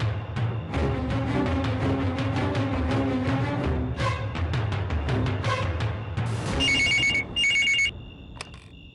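A telephone rings as a call is placed to a jail's jailer, repeated electronic ring bursts over dramatic background music from a TV serial, ending with a few high electronic tones.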